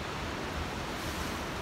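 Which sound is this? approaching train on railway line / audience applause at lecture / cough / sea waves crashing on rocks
sea waves crashing on rocks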